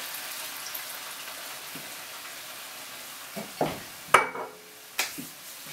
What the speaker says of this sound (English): Now what this is doing is this is deglazing the pan